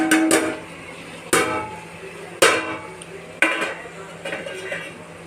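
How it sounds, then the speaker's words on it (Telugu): Washed moong dal tipped into a pan with green chillies and stirred with a metal spoon, giving four sharp clanks of utensil against pan spaced about a second apart, each followed by scraping and a light rustle of lentils. "కడిగి పెట్టిన పెసరపప్పు వేసేస్తాను."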